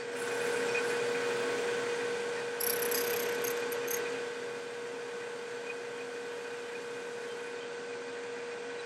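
A wood lathe runs steadily during finishing, a continuous mid-pitched whir with a constant tone, loud and close, with a brief scraping hiss partway through as the pad presses against the spinning workpiece.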